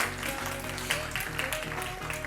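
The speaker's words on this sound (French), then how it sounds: "on l'applaudit" Audience applause for a moderator at a round-table discussion on preventing workplace discrimination, a brief steady patter of clapping, fairly faint, with no talk over it.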